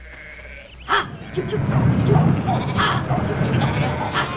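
Several sheep bleat repeatedly amid a busy, noisy outdoor scene, with shouts and rustling around them.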